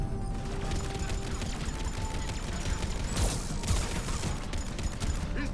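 Sustained gunfire fills a firefight in the Mass Effect video game, a dense crackle of rapid shots with a sharper burst of impacts midway, continuous and loud throughout.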